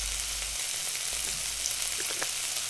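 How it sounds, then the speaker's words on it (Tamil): Chicken and vegetables for a spring roll filling sauté in a pan over a medium flame, a steady close sizzle with a few soft stirring scrapes, no voices. "மீடியம் ஃப்ளேமில் 7லேருந்து 10 நிமிஷம் வரைக்கும் இதை நல்லா வதக்கணுங்க"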